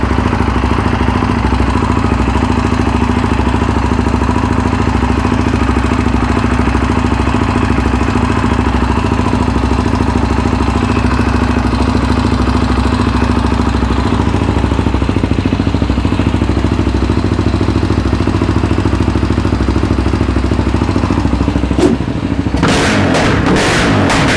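A rebuilt Yamaha Raptor 700R ATV engine runs loudly and steadily at a constant idle-like rumble, close and continuous, with a brief clatter near the end.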